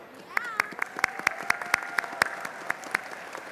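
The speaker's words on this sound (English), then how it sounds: "Please give them a big round of applause." Applause fills the Texas House chamber during a legislative session, with sharp, distinct claps rising over a steady crowd patter and a faint voice underneath.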